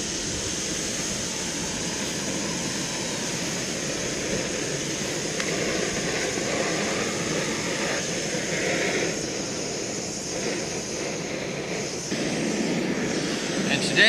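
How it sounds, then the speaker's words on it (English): An MSR PocketRocket camping stove burning outdoors, a steady close roar of the flame that holds level the whole time and rises slightly near the end, with wind and a voice faintly underneath. "today I'm using my pocket rocket from MSR. Great stove for bringing up a boil real quick."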